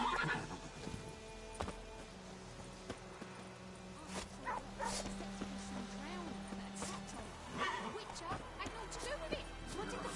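A horse in The Witcher 3: Wild Hunt gallops with clip-clopping hooves and an occasional whinny, mixed with game sounds and a voice speaking over it.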